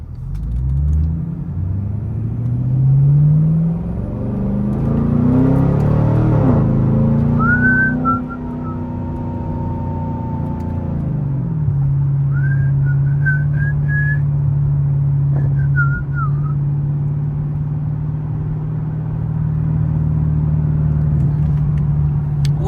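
A Chevrolet Camaro SS engine drones from inside the car while driving, rising in pitch as it revs, then settling into a steady loud cruising rumble. Faint whistling tones come and go over it.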